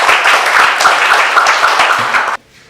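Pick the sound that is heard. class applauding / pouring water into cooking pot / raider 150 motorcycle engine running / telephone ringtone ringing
class applauding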